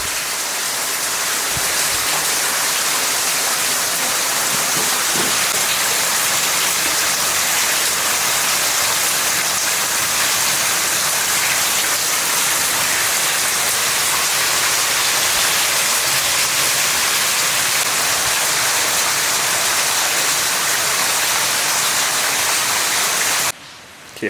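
Waterfall deep inside the abandoned Admiral Mine, a loud, steady roar of rushing water that fills the whole space without a break and stops abruptly at the very end.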